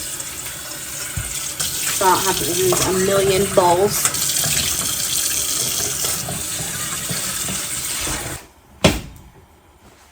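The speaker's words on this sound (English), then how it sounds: "I think I'm going to rinse this out and use this to hold the cool water" Running tap water pours steadily into a bowl, splashing and rinsing, while a person talks over it; the flow stops abruptly near the end.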